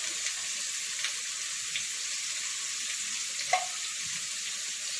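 Pointed gourd frying with cumin paste, ginger paste and chili powder: a steady, fairly quiet sizzle and hiss throughout, with a few faint clinks from stirring and no talking.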